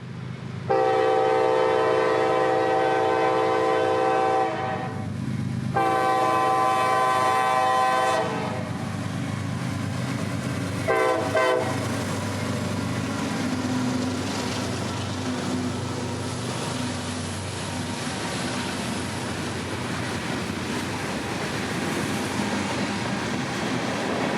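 Norfolk Southern freight train 1080 sounds its horn in long, loud blasts, then a short final toot, before the steady rumble and clatter of the wagons rolling past nearby.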